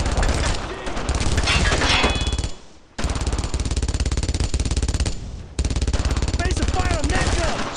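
Sustained automatic gunfire rattles from a World War II shooter, Brothers in Arms, in dense rapid bursts that are loud and close, with two brief pauses between long volleys, and shouted voices mixed in.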